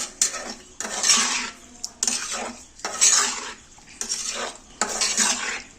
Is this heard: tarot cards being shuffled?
no